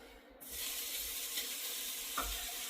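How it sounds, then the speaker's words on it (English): Bacon hits a hot pan of olive oil and breaks into a steady, broadband sizzle that holds close and even throughout, with a brief clink partway through. "I'm gonna put my bacon in here"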